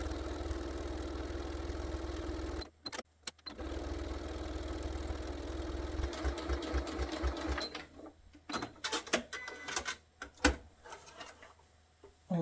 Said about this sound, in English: The next bit of sewing is to carefully top stitch across the top.